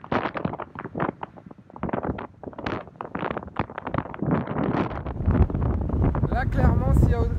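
Strong gusty wind blows along the Lez river cycle path on the Montpellier marathon route, buffeting the microphone loudly and steadily throughout, with a voice talking over it.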